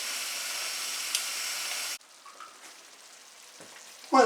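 Beef mince sizzles and fries in a pan for spaghetti bolognese, a steady loud hiss for about two seconds that then drops to quieter crackling, with a sharp clatter near the end.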